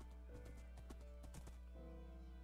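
Horse hooves clip-clopping in the video game Minecraft, a run of quick, close taps over a steady low background hum.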